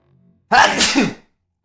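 A single loud, close sneeze bursts out after a brief faint breath, then silence.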